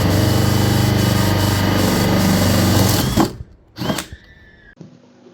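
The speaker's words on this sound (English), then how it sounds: "Here I am making the holes on the top of the box." A power tool bores holes in the top of a wooden box with a loud, close, continuous whirring drone. It cuts off about three seconds in, and a few brief knocks and faint ringing tones follow.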